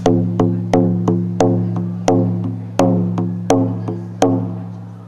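A deep, resonant drum struck in steady pairs of beats like a heartbeat, each hit ringing out and decaying, repeating evenly with no voices.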